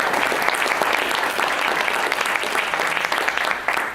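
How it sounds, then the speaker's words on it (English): A big round of applause from an evening audience greeting a guest speaker, dense and continuous clapping that fills the room at full strength throughout. "Can we give a big round of applause to Mr."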